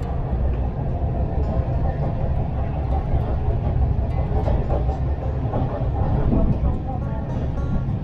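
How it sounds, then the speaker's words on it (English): Long oil tanker freight train passing on a rail line in Turkey, a steady loud rumble with continuous rolling rail noise throughout, close by and unbroken. "So this is going to be pretty long oil tanker."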